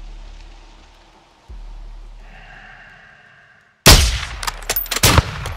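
Sniper rifle fire in Call of Duty Modern Warfare 2: after quiet low rumble, a sudden loud close blast erupts with crackling echoes and debris tailing off.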